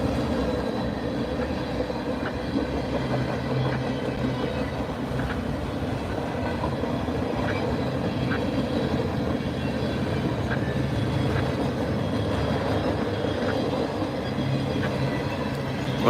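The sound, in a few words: train passing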